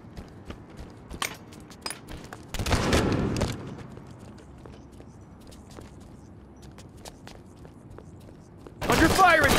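Gunfire in a Halo 5 Guardians Breakout match: scattered sharp shots and crackling volleys, some distant and some close, over steady game ambience, with a heavy burst near the end and voices in between.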